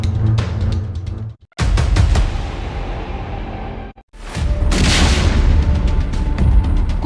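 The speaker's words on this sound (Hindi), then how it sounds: "कुछ ही सेकंड में जोरदार धमाका।" A loud, deep boom from a missile strike erupts and rolls on in heavy rumbling waves, followed by a second roaring blast with debris-like crackle, during the Russia–Ukraine war.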